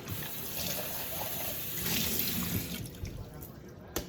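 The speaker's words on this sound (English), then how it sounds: "I have a water cooler over there" Water pouring from a water cooler into a container indoors, a steady soft rush fading near the end, faint and close.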